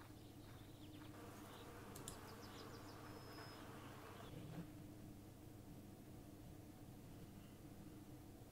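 Bees buzz around a beehive in The Beekeeper's Picnic video game, a steady faint insect drone that continues throughout with no talk.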